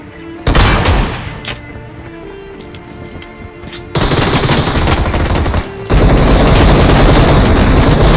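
Close, loud bursts of gunfire in the mobile game PUBG Mobile, including a shotgun: heavy shots and rapid volleys arrive in clusters, growing into sustained dense firing toward the end, with no talking.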